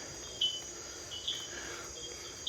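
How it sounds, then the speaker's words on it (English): A frog on Costa Rica's Osa Peninsula calls at night with three short, high chirps spaced roughly a second apart. The calls are moderately close and sound over a constant droning chorus of night insects. "I'm still on the look for that frog that keeps calling"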